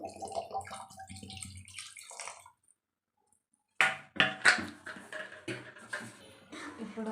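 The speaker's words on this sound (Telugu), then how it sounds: "వాటర్ యాడ్ చేసుకుందాం." Water splashes into a pot of moong dal and tomato in a home kitchen, pouring in bursts with a clear pause before a louder, gurgling stream resumes.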